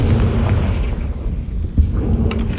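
A Confringo fire-blast spell exploding in the video game Hogwarts Legacy: a deep, rumbling boom with a short, sharp burst near the end.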